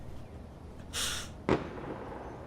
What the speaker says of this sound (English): Look like they're shooting flares, not fireworks.